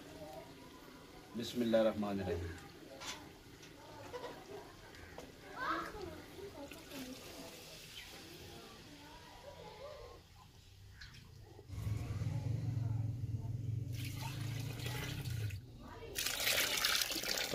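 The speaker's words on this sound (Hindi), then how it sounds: "मटर भी हमारे फ्राई हो गए हैं। अब हम पानी शामिल कर लेते हैं।" Water is poured into a cooking pot over fried peas and chicken for a village-style matar chicken pulao, a steady splashing gush in the latter part, with people talking before and around it.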